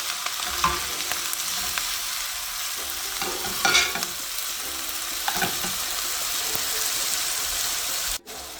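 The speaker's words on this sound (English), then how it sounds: "as my onion is getting fried" Red onion, green chilies, garlic and ginger fry in a pan with a steady, close hiss and sizzle, and a few stirring scrapes rise above it now and then.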